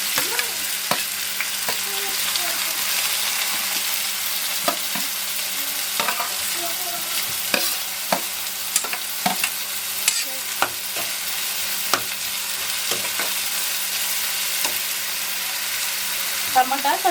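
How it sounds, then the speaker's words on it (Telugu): Sliced onions and green chilies sizzle steadily in a pan for a murrel fish curry, with a constant hiss broken by regular knocking stirs of a spoon against the pan, up close. "అవి కొంచెం ఫ్రై అవుతుండగా ఆనియన్స్ వేసుకోవాలి"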